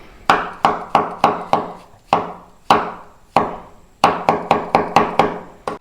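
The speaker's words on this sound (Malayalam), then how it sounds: "മഷ്റൂം ആദ്യം ഒന്ന് കട്ട് ചെയ്യാം." A knife chops mushrooms on a board in crisp, close wooden knocks, delivered in quick bursts of three to five strokes separated by short pauses, each hit ringing briefly before the next.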